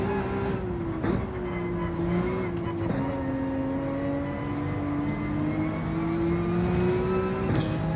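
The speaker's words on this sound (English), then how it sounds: "You can hear a lot of bumping cars behind." Gr.3 race cars in Gran Turismo 7, a loud steady engine drone with the pitch slowly rising and falling, broken by a few sharp knocks as cars bump each other in a close pack.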